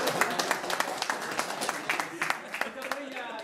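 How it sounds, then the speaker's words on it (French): Scattered applause from a small gathering at a Yennayer celebration in Paris, individual sharp claps rising and falling over a steady murmur of voices and chatter. "Ah oui, on doit l'applaudir."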